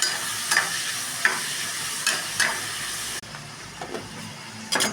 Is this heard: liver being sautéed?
yes